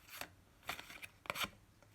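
Soft papery riffles of tarot cards being shuffled, a few quiet brushing bursts spaced irregularly, close and faint.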